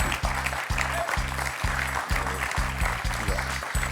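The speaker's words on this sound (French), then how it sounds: "On applaudit Roland" Studio audience on the French quiz show Questions pour un champion applauds steadily throughout, with a pulsing musical beat thumping underneath.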